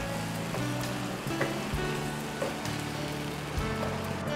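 Tomatoes frying in a karahi over moderate heat, a continuous crackling sizzle with patter-like spits, close and steady, with a few faint clinks of stirring.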